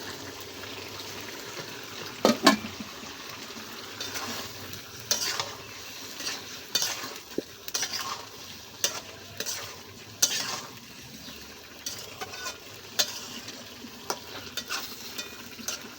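Tomato goes into fish with flat beans and potatoes frying in a pan in village-style cooking; a steady sizzle runs throughout while a spatula scrapes and taps the pan in a repeated, uneven rhythm.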